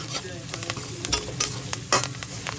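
Onion frying with salt in a kadai for chicken curry, a close bright sizzle punctuated by quick spatula scrapes and knocks against the pan, no voices.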